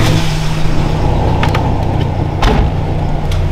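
A low-budget convertible cabrio with aftermarket exhaust work is out for a drive. A loud, steady engine and road rumble runs throughout, with a few light clicks and knocks on top.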